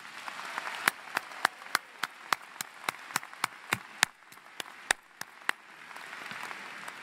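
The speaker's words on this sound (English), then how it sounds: "And a round of applause for the Wind Ensemble." Sparse applause for a university wind ensemble at a freshman convocation, individual claps ringing out singly in a large hall over quiet murmur, tapering off toward the end.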